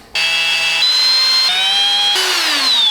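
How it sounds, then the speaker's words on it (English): A power drill whines loudly and continuously, its pitch shifting in steps as it bites into a metal driveshaft yoke for an off-road vehicle, with no talking. "my plan is to drill this right here where I can do it precisely"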